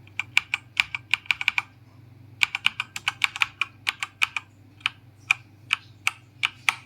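Keys with red switches on an Ant Esports MK3500 mechanical keyboard are pressed and released in quick runs of sharp clicks, then in slower single, evenly spaced presses, close and clear against near-silence.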